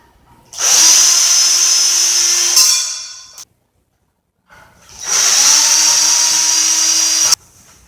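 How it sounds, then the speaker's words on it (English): A cordless power drill runs twice on screws in a ceiling fan's mounting panel, each burst a steady high whine of about two to three seconds, close and loud, with a brief silence in between. "I'm going to remove these screws that are on each side so I can drop this little panel down"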